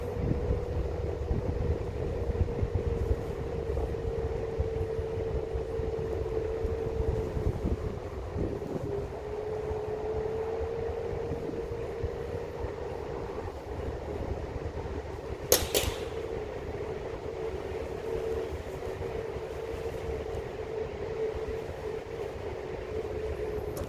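A NIU KQi2 Pro electric scooter riding slowly in e-save mode, capped at 15 km/h: a steady low motor whine with wind rushing over the microphone and a brief sharp knock partway through.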